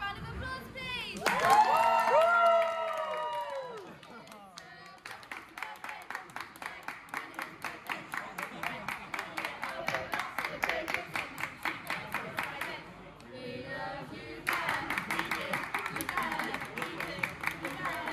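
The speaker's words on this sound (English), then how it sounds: "Can I get a massive round of applause, please?" A crowd at a Telford bar cheers and whoops for Ben's 18th birthday, then breaks into long, rhythmic clapping that swells and continues, loud and lively with voices shouting throughout.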